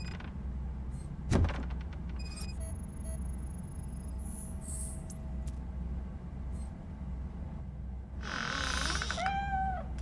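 In Robocop Rogue City, a cat meows near the end, a drawn-out call with rising and falling pitch, after scattered mechanical creaks and game sounds over a low rumbling ambience.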